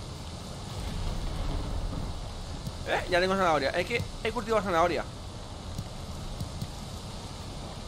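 Rain falls steadily in the Valheim video game, a faint even patter running throughout beneath someone speaking briefly in the middle.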